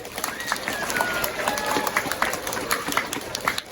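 Applause from a school assembly audience for a ballet dancer, steady dense clapping mixed with children's cheering and chatter, filling the whole stretch at moderate loudness.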